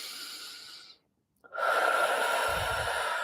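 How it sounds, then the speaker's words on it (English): Deep meditative breathing into the heart space: a long airy exhale trailing off, a brief silence, then a loud full inhalation close to the microphone. "Breathing into the heart space."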